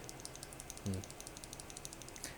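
Gateron silver linear keyboard switch pressed, giving soft, quiet clicks with one slightly firmer press near the middle, alone without talk.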